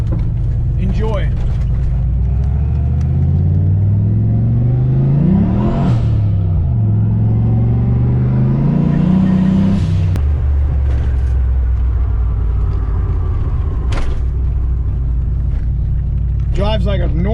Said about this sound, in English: Drives like a normal Mustang until you get in the boost.